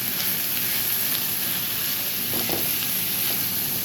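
Capsicum and onion fry in a pan with a constant close sizzle and hiss, with faint stirring scrapes now and then.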